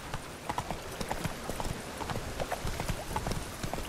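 A horse's hooves clip-clop in a quick, steady rhythm in The Witcher 3 video game, the footfalls close and fairly faint over a soft background hiss.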